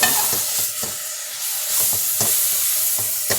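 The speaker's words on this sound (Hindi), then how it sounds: "इसको अच्छे से मिक्स करना है" A spoon stirring condensed milk into a sizzling vermicelli sweet in a pan, for a traditional Sindhi dessert, with repeated scraping strokes in an irregular rhythm over a steady hiss, close and without talk.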